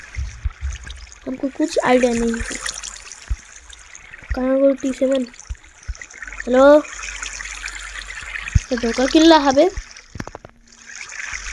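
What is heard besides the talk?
flowing water in the video game Minecraft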